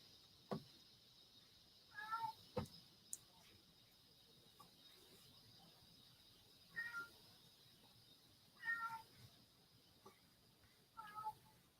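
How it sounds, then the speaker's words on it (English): Cat hollering outside a door, heard indoors as faint, muffled meows in four separate bursts spread across an otherwise quiet room. "I hear a cat hollering outside the door."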